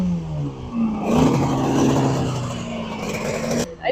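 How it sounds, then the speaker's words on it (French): A classic racing motorcycle engine roars past loudly on a road circuit in Imatra, its pitch shifting as it speeds by, with another engine rising at the end. "c'est les vieilles motos, c'est les classiques"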